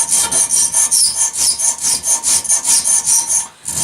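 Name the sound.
hand file filing a triangle cut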